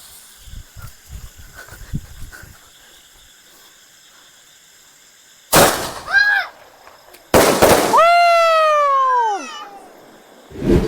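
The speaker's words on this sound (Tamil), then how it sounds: "அடுத்து பார்த்தீங்கன்னா மீடியம் சைஸ் ஸ்கை ஷாட்டுங்க" Medium-size sky shot fireworks from a Meera Crackers night test go off in two loud sharp bursts, each followed by falling whistling tones, after faint scattered pops early on.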